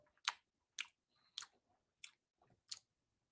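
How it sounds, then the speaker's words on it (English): A man chews gum in close, quiet bursts, five or six short wet chomps spaced at a steady, unhurried rhythm with near silence between them. "And he's sitting there chewing gum."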